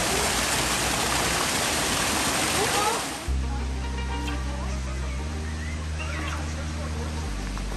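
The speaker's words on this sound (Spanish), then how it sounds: "El sonido del agua" Water flows steadily inside a butterfly house in a large geodome, a loud broadband rush for about three seconds that then drops to a softer background, with a low steady hum beneath.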